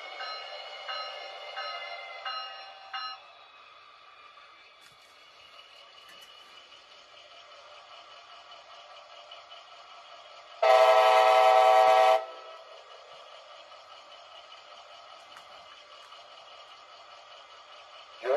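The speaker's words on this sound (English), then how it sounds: "Please remain behind the warning line as the train approaches the station." Amtrak train pulling into a station, a loud horn blast lasting about a second and a half cutting over a faint, steady rumble of the moving train, with no talking.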